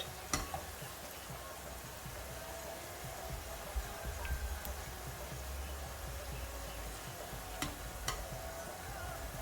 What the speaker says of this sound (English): Nicely fry it.